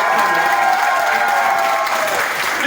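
An audience applauds at a Teachers Day talk, with sustained, loud, dense clapping from a crowd that continues evenly for about three seconds.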